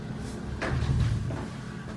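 A sliding barn-style door on a hotel bathroom at the Baton Rouge Marriott rolls along its track with a low, brief rumble that swells in the middle and fades, close by and with no talking.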